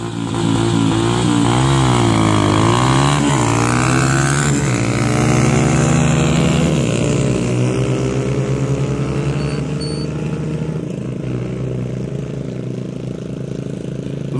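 Several mini motorbikes roar around a lap track at the start of a race, their high revving engines rising and falling in pitch as they pass, loud and continuous throughout.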